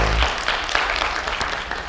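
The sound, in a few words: audience applause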